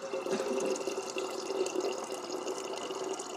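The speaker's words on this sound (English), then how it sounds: "this is the sound of me filling my water bottle" A water bottle filling from a tap, a steady, quiet stream of running water that continues unchanged, close by and without talk.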